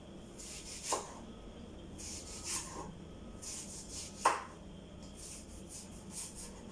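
Onions being cut by hand, a series of soft rasping slices and a couple of sharper knife taps at irregular intervals, faint and close.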